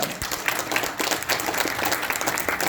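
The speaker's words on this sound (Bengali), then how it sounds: "স্যারের জন্য জোরে একটা তালি যাচ্ছে, জোরে।" An audience at a program claps for a guest, a steady, dense burst of applause heard up close and fairly loud throughout.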